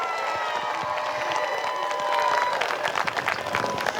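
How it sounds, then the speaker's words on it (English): A crowd at a youth 10U football championship claps and cheers for both teams, dense applause with scattered shouts swelling slightly midway and holding steady. "Let's give a big round of applause to both teams, the Southside Elite Spartans and Garfield Bulldogs"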